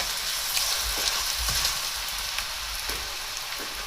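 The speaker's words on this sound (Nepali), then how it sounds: "लसुन, खुर्सानी, नुन सबै मिक्स गरेर साथीहरू हामी फेरि तेलमा पकाउँछौँ।" Garlic, chili and salt chutney fries in hot oil, giving a steady, dense sizzle with occasional popping crackles, close up and with no talk.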